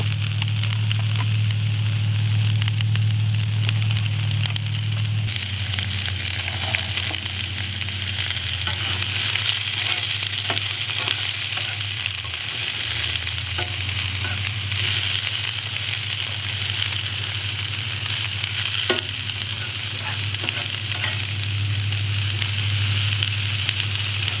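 Vegetable oil sizzles across the middle of a hot Blackstone griddle, a loud continuous hiss and crackle heard up close with a low burner hum beneath and no voices.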